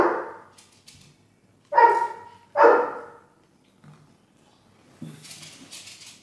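A dog barks a few times close by, two sharp barks in quick succession after a softer opening yelp, with quiet pauses between.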